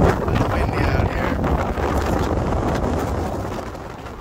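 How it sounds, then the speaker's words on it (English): Strong gusts of wind roar and buffet the microphone outdoors in Iceland in a dense, continuous rumble that eases slightly toward the end. "It's windy out here."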